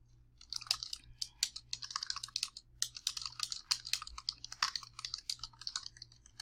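Quick, irregular keystrokes on a computer keyboard, a dense run of close, crisp clicks over a faint low hum, with no talk.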